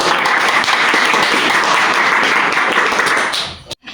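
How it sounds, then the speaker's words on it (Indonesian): A classroom of pupils applauds a correct answer, steady dense clapping filling nearly four seconds before stopping abruptly near the end. "Tepuk tangannya untuk Siti."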